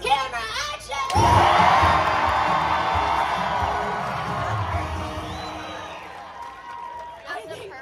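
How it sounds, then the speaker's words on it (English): A large arena audience at an animal actors show with dogs roars with cheering, whoops and shouts that surge loudly right after a brief moment of talk, then hold steady and gradually fade. "I think that was our loudest crowd ever."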